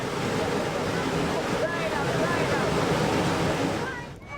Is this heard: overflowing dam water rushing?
yes